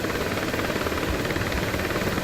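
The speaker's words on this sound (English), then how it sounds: "I think I'll take to the skies in what is oh so obviously simply an Iraqi helicopter" An Iraqi helicopter in Battlefield Somalia, a dense, continuous rotor-and-engine roar with a steady rapid flutter, loud and close with nothing else audible.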